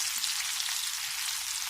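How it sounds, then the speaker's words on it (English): Homemade onion rings fry in a pan, giving a dense, steady hiss of sizzling oil that stays loud and even throughout, with no voices. "You see them sizzling"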